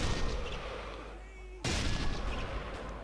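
Gunfire in the video game Sniper Elite 3, a dense rumbling barrage that dips briefly and then returns with a sudden loud blast and continuing booms.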